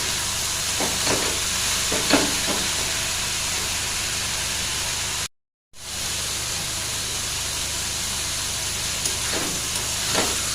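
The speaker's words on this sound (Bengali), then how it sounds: "মশলাগুলো কষানো হয়ে গেছে, এই যে সুন্দরভাবে কষিয়ে নিয়েছি" Chili, turmeric, coriander and cumin powders with salt frying in a pan for a banana flower dish, a steady loud sizzle with occasional stirring scrapes, broken by a brief silent gap midway.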